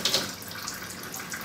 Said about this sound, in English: The Kangen water is go through to the machine